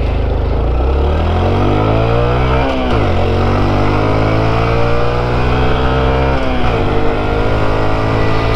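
A Honda Trail 125 motorcycle accelerates hard on a test ride, its engine note climbing loud and close through the gears, dipping briefly at two shifts before rising again.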